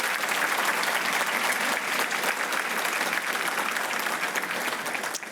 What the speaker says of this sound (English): How about a round of applause for these amazing people?